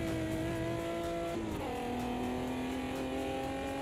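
A race car engine in the racing video game Automobilista 2 screams at high revs, briefly dropping pitch as it shifts gear, then holds a loud, sustained whine with a hard, synthetic edge.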